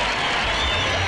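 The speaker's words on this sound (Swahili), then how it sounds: "Tuwapongeze kwa makofi." A crowd at an outdoor Mashujaa Day ceremony claps to welcome the deputy president, a brief, dense, steady burst of applause heard up close.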